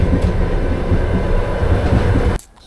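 A train rolls along toward the Volga with a loud, steady rumble and rhythmic wheel clatter close by, then cuts off abruptly near the end.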